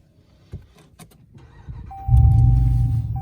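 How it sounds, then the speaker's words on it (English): A Dodge Ram pickup's engine cranks briefly after a few soft clicks, then catches and settles into a steady, fairly loud idle close by. "start the car"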